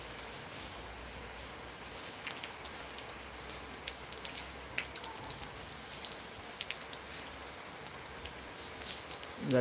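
Steady rainfall with scattered droplet ticks and patters on a surface, continuous and fairly soft, with a high hiss throughout.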